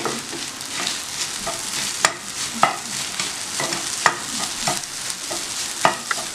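Egg and okra fry in a pan over a medium flame while being stirred: a steady close sizzle broken by sharp scraping clicks of the spatula roughly every second, with no voices.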